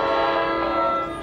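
An NJ Transit commuter train bound for Dover arrives at South Orange, New Jersey, sounding a sustained, fairly loud horn chord that fades slightly toward the end of the short burst.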